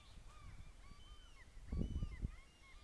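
Birds calling outdoors near a backyard with old garden furniture, a series of faint chirps and whistles recurring throughout, with a louder low rustle or thump near the middle.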